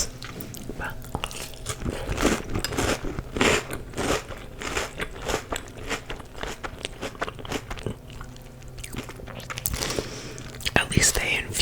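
Crunchy Trix cereal being bitten and chewed close to the mic in ASMR style, with steady crisp crunches and soft mouth sounds running throughout under quiet whispered talk.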